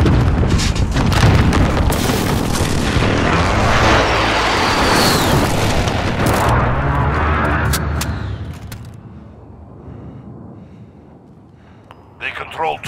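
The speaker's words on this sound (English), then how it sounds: "Friendly precision airstrike on the way." Heavy explosions from a precision airstrike in Call of Duty: Modern Warfare multiplayer Domination match, loud continuous booming rumble for about eight seconds that fades to quiet, with brief sharp bursts near the end.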